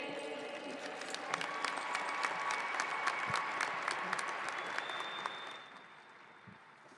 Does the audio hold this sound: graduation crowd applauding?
yes